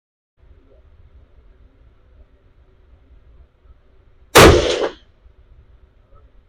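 A Ruger American .223 rifle firing a Federal Gold Medal match round at a range lets off a single loud, sharp shot with a short ringing decay, after quiet low background hum.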